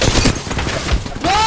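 Rapid overlapping gunfire in the Apex Legends battle game, a dense loud volley of shots from several weapons, with a rising electronic whine near the end and no talking.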